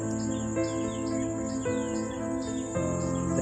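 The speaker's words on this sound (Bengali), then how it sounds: "পাখির আওয়াজ পাচ্ছেন কি" Birds chirp and tweet repeatedly in a village near the Sundarbans, high short calls layered over a steady insect-like buzz and low background hum.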